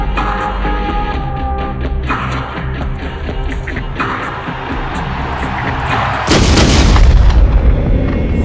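Heavy booming gunfire from an action movie trailer about an assassination, layered over dramatic music, with a large loud blast near the end.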